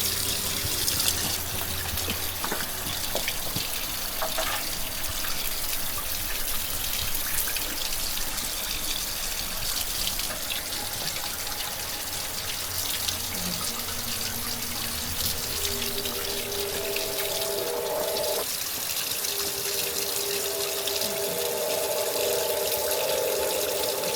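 At a shrine in a Japanese forest, water from a ladle or spout splashes and trickles over hands in a continuous close pour, with faint voices in the background.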